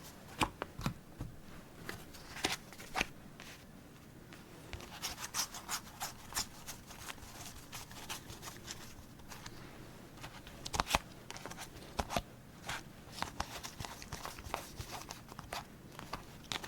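Playing cards from a deck handled up close in a quiet room, with soft intermittent shuffles, taps and flicks at low volume.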